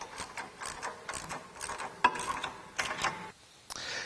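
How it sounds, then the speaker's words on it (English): An 11/16 and a 5/8 end wrench tighten four bolts on a Jeep JK rear bumper with tire carrier, giving a run of close metallic clicks and ratcheting ticks at moderate loudness, with no talk. "we're going to go ahead and use an 11/16 and a 5/8 end wrench, and we're going to go ahead and tighten these 4 bolts down in place"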